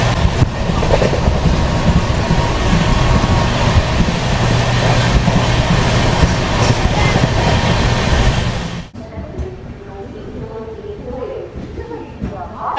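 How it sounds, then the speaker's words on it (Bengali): Sealdah Puri Duronto Express running at speed, a loud steady roar of wheels and rushing air with rhythmic clickety-clack that drops abruptly to a quieter rumble near the end. "ট্রেনের নাম যেমন দুরন্ত, স্পিডও সেরকম দুরন্ত, সহজে চলছে"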